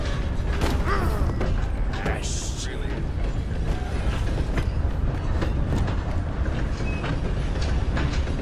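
Steady rumble and clatter of a train in the video game Red Dead Redemption, with creaking, clanking rail-car mechanisms running continuously throughout, while voices talk over it.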